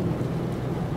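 Steady rain with a low rumble of thunder beneath it in Euro Truck Simulator 2, constant and fairly loud throughout, with no voices.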